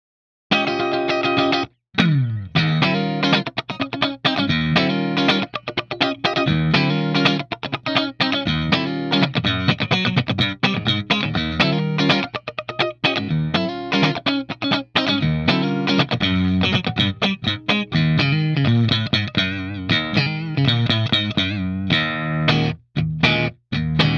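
A distorted electric guitar plays rhythmic funk chords and riffs through a SonicTone '67 Special 50W British tube amp, with effects, loud and continuous with only brief gaps.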